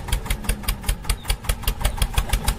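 A mini tractor engine idles close by after the tractor had driven into water, chugging in a steady, even pulse with no talk over it.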